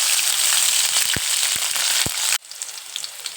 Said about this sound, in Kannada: ಅದಕ್ಕೆ ಸ್ವಲ್ಪ ಸಾಸಿವೆ, ಸ್ವಲ್ಪ ಜೀರಿಗೆ, ಒಂದಿಷ್ಟು ಕರಿಬೇವು, ಸಣ್ಣ ಕಟ್ ಮಾಡ್ಕೊಂಡ್ರೆ ಮೆಣಸಿನ್ಕಾಯಿ ಹಾಕ್ಕೊಂತೀನಿ